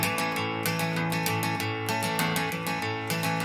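Rockabilly rhythm guitar is played in the style of a classic song, fast, even strumming with a driving beat, close and alone with no voice over it.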